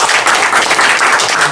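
Listeners at a lecture on pu-erh tea break into a short, loud burst of applause, dense and close-up, with many hands clapping together.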